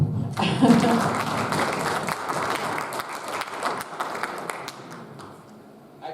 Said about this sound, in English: A round of applause would be helpful.